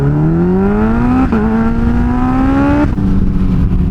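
A Kawasaki H2 motorcycle engine revs loud and close in three rising pulls, its pitch climbing smoothly before dropping back briefly between each, with no talk over it.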